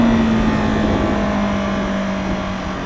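A 2015 Yamaha R3 motorcycle cruises at highway speed with a steady, loud, droning engine note under heavy wind rush. The pitch holds nearly constant and eases down slightly toward the end.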